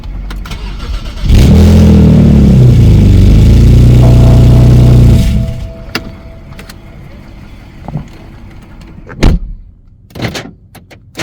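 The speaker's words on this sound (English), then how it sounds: "start the engine for a few seconds, then shut the engine off" A 2006–2010 BMW 5 Series engine cranks and fires close by, runs at a steady idle for a few seconds, then shuts off, followed by quieter clicks and a door thud.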